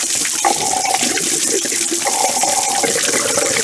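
Water drains steadily out of a Dennis Dart SLF single-deck bus, a continuous loud rushing and trickling that runs without a break.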